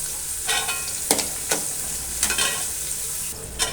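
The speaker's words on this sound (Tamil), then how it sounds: "வெங்காயம் நல்லா வதங்கிடுச்சு" Onions sautéing in a pan, a steady soft sizzle broken by several sharp scraping stirs of a spatula, close by with no talking.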